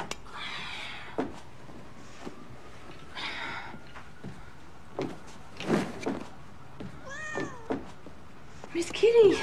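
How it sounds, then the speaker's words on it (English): A house cat meows a few times in a city apartment, short bright cries standing out near the end amid faint room noise, door sounds and someone talking now and then. "Miss Kitty!"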